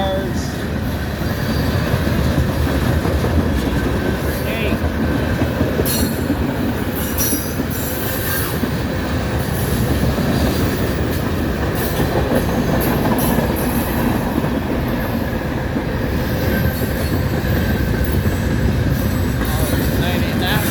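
A CSX freight train of crude oil tankers, cement cars, boxcars and hoppers rumbles past close by in Bushnell, Florida. Its loud, steady roar carries wheel clatter and occasional high squeals throughout.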